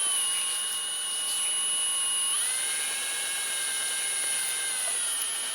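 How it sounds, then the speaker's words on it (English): A steady, high-pitched electric drill whines continuously, shifting pitch partway through as it spins a bore brush cleaning old grease from front brake parts of a 2008-2013 Nissan Rogue, close and loud with no talking. "I'm going to use a bore brush on my drill to go ahead and clean that out"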